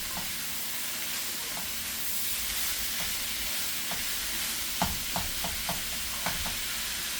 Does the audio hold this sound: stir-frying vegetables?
yes